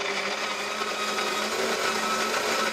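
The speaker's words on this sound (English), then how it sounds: "Press the on-off button once to start the grinding process." De'Longhi KG79 coffee grinder set to a fine grind, grinding coffee beans with a steady, loud, continuous motor whir and buzzing rattle throughout, unbroken and free of voices.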